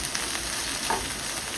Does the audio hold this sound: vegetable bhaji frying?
yes